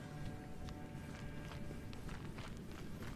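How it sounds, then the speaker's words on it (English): Crystalline creatures walk in the video game Elden Ring, a run of light, clicky footsteps ticking irregularly over a dense, steady game background. "Thought I heard weird footsteps of crystally chunks."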